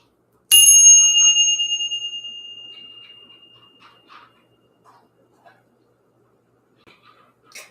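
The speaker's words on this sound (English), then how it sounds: "Let's ring the bell." A single bright bell struck once during a spiritual session, ringing out loud and clear then decaying slowly over a few seconds, followed by faint soft sounds and quiet.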